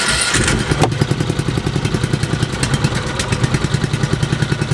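A boat engine in a small project boat catches when its solenoid is engaged. A brief cranking start leads into a loud, close, rhythmic chugging idle that continues evenly to the end.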